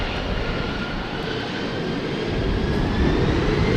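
Jet airliner departing runway 36L at Amsterdam Schiphol in showery weather, a loud, steady broadband engine roar with a faint rising whine, building slightly toward the end.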